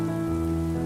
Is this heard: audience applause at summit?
no